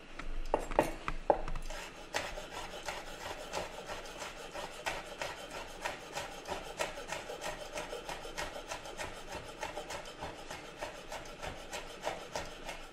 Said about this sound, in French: On va venir hacher le piment. On va essayer d'avoir quelque chose d'assez fin quand même.